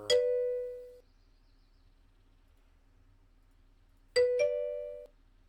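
An electronic doorbell chime being tested in software, playing a single clear ding, a few seconds of silence, then a louder two-tone ding-dong, each ringing out and fading quickly with no talk.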